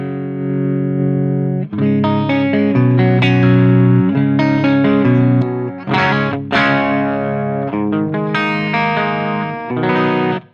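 An electric guitar plays through a modified Marshall JCM800 amp with the master volume turned up. Loud sustained chords and single notes ring out alone, with a few short pauses between phrases.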